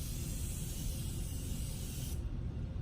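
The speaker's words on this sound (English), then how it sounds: "I'm gonna go and take my Morphe and just spray it" A steady, close hiss of Morphe makeup setting spray released in one continuous burst, with a low rumbling background underneath.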